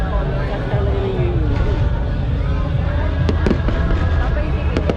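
Fireworks bursting during a celebration in the Philippines, a dense continuous rumble of explosions with sharp crackling pops standing out near the end, with crowd babble mixed underneath.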